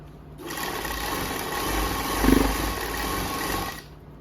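A sewing machine stitches a seam on a printed suit, running as one steady close whir for several seconds with a slight swell near the middle before stopping, no voices over it.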